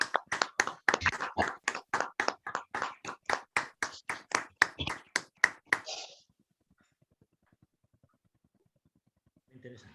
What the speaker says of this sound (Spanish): un aplauso a los ponentes